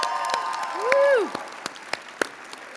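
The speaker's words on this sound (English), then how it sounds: "let's give them a round of applause." An audience at a university commencement ceremony applauds as the clapping thins out to a few scattered, sharp claps. A rising and falling whistle or cheer sounds over it early on.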